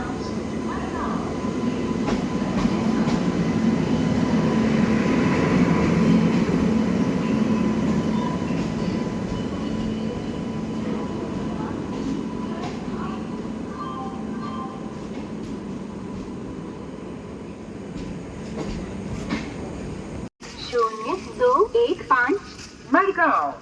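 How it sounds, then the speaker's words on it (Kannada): Madgaon–Ernakulam Express pulling into platform 3 at a station, a loud steady rumble of rail cars for about twenty seconds, then quieter with nearby voices talking over station noise. "train ಬತ್ತಂದುಲೆ ಟ್ರೈನ್ದ sound ಕೇಳಲೆ"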